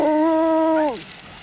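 Antarctic huskies kept as working sled dogs give a sustained, tonal howl that holds steady for nearly a second, then bends downward and fades, leaving faint scattered sounds after; no talking.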